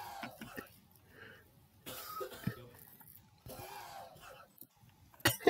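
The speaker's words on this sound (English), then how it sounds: "so you don't have to listen to me coughing" Several bursts of coughing and throat clearing from a person close to the microphone, spread across a few seconds with quiet gaps between fits.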